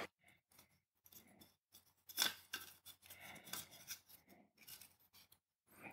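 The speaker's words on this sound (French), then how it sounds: "J'étais en train de jouer avec un rouleau de, avec un rouleau de scotch là." A roll of sticky tape is fiddled with close up: quiet, scratchy rubbing and rasping handling noises in short, irregular bursts separated by near silence.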